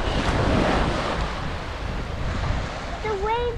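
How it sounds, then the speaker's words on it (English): Ocean waves roll slowly onto a Devon beach with a steady wash of surf and wind buffeting the microphone, and a voice begins speaking near the end. "The waves are coming in very slowly."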